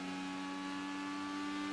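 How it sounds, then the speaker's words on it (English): An IndyCar race car engine at speed on the long straight at the 2017 Indianapolis Grand Prix, a steady, loud, high-pitched whine holding constant pitch with no voices over it. "Just listen to the engine sing here."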